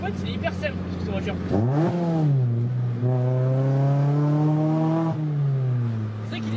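A Ford Fiesta ST engine revs hard twice, each pitch climbing sharply then settling into a loud sustained drone close by, with brief talking at the start.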